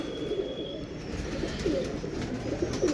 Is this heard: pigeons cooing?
yes